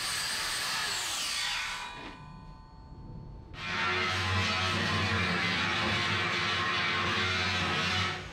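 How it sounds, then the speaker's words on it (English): A grinding stone grinds metal on a front end loader bucket under repair, a loud, harsh whine in two long passes separated by a short pause. "I'm gonna grind all this down. With the grinding stone, kind of have a clean surface."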